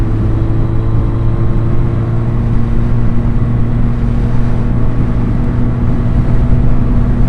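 A Harley-Davidson X Series 350 or 500 motorcycle cruising at about 110 km/h, its engine held near the top of its rev range as a steady, loud drone with a strong low harmonic hum and no talk over it.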